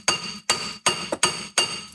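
A ratchet used as a makeshift hammer strikes a Toyota Aygo brake disc five times at a steady pace, each close metallic clank ringing briefly before the next blow.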